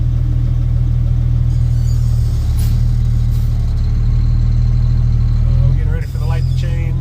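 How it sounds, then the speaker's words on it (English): A gravel-hauling truck's engine rumbles steadily from inside the small cab with a deep, low drone, briefly easing off and dropping near the end as the gears change. "Here will be a quick little video of me going through the gears."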